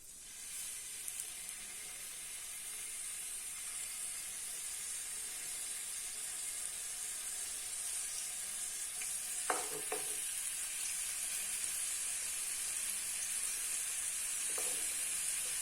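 Mutton chops fry steadily on a greased pan, giving a continuous close sizzle and hiss with a few brief clinks of a utensil partway through; no talking.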